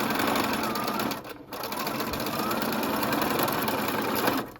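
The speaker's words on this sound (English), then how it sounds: "I'm going to start in back stitch and then come all the way down using a 5/8 inch seam allowance." A sewing machine runs fast and steadily along a 5/8-inch sleeve seam for a wrap dress, loud and close, with one short pause partway through.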